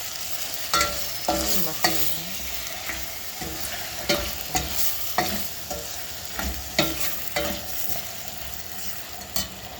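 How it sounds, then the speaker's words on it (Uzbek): Meat, onion and bell pepper fry in a pan under a steady sizzle, while repeated sharp scrapes and knocks from a stirring utensil come every second or so throughout. "Qovuramiz."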